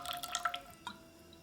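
Rice vinegar poured into a pot with water and ketchup, a brief quiet splashing trickle with a couple of drips, heard up close.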